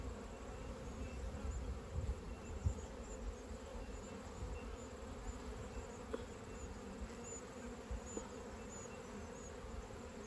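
Honeybees humming around an open hive during a frame inspection, a dense steady buzz with individual bees drifting close to the microphone, no speech.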